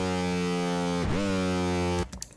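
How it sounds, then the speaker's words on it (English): Buzzy saw wave from the Vital synth with full-wet reverb and a modulated delay, holding a steady harmonic-rich tone, then swooping down and back up in pitch like a vinyl slowdown before cutting to a short reverb tail. "when you modulate the delay is it creates this pitched kind of, this kind of like almost vinyl pitch reverse kind of sound effect"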